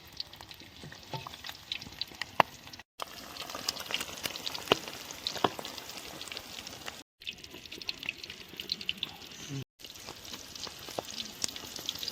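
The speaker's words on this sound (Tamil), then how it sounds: "இப்போ ஆயிலில் போட்ட சிக்கன் லெக் பீஸை நம்ம கரண்டியால் திருப்பி திருப்பி போடுறோம்." Chicken leg pieces frying in hot oil, a steady crackling sizzle with scattered pops and the clink and scrape of a ladle turning them, close and continuous with no talk.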